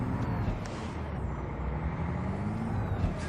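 Heavy trucks rush past in the American Truck Simulator driving game, a loud steady roar of engine and road noise with a hiss of air brakes, continuous and close throughout.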